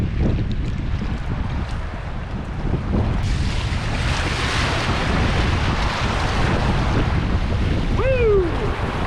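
Solo canoe running whitewater river rapids, with loud rushing water and a wind-buffeted roar filling the whole stretch, a brief whistle-like sound near the end.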